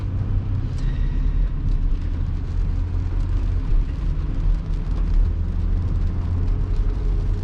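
A 2020 VW Touareg 3.0 TDI Elegance Tiptronic SUV on a test drive, heard as a steady low cabin rumble of engine and road noise without speech.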